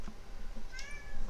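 A cat meows once, a rising then falling cry, over a low background hum.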